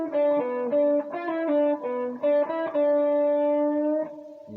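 Electric guitar plays a short blues lick, sustained single notes stepping through a minor-third line with a pull-off and a slight quarter-step bend, distorted and bright, ending on a held note.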